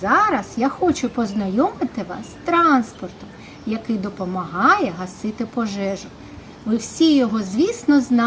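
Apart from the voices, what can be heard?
No everyday noises stand out.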